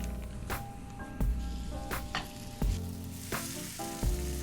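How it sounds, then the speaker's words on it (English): Clumps of Thanksgiving stuffing brown in butter in a pan, a close steady sizzle broken by several sharp stirring knocks and scrapes. "add some more butter, and finish browning off the rest of the stuffing"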